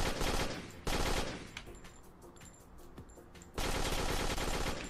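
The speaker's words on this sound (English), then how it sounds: "Tommy gun." A Tommy gun fires in a Unity UFPS first-person shooter demo. Two loud, dense bursts of rapid automatic fire sit at the start and end, with a brief shot and quieter mechanical clicks between them.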